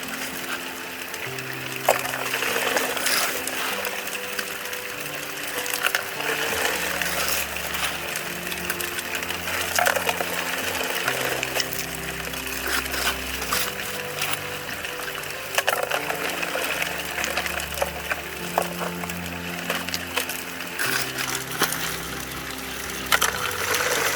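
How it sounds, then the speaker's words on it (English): An electric rock washer churns gravel in water beside a bucket dredge barge during gold prospecting, giving a steady loud motorized whir with continuous sloshing and gushing water, no voices over it. "it is an electric rock washer, so I can just stick it in there, get all the crap off of it"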